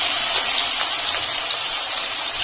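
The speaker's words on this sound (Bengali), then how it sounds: "এই তেলের ভিতরে আমি দিয়ে দিচ্ছি কিছুটা পেঁয়াজ।" Sliced onions fry in hot mustard oil in a home kitchen, browning for a mutton dish, with a continuous close sizzling hiss and no talk.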